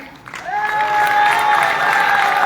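An audience claps steadily while a sustained, whistle-like cheer rises over it, the applause swelling and holding loud to the end.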